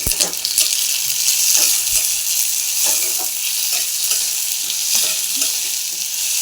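Tomatoes and two green chillies fry with onions in a pan for aloo posto, sizzling loudly and steadily up close while a spatula scrapes and taps in an irregular rhythm.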